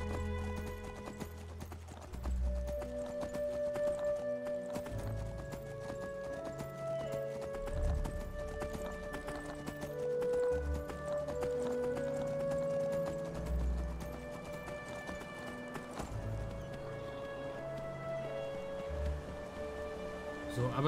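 Donkey hooves clip-clop at a steady walking rhythm while riding in the fantasy game Enderal, set against an ongoing musical score with occasional animal whinnies.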